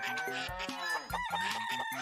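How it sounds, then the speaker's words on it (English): A rooster's cock-a-doodle-doo in a children's farmyard sing-along song, the crowing bright and repeated over a bouncy musical backing. "Wake up, the rooster's crowing loud."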